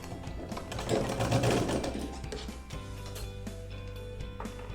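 Sewing machine stitching the corner of a Rajputana-style blouse, a steady mechanical whirr of the needle with a louder burst early on, then a continuous hum, close and alone without talk.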